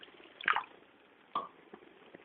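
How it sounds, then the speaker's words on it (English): Water poured into a pan of melting jaggery on simmering heat, two quiet splashy pours with faint drips between, close and soft. "I'm going to add some water"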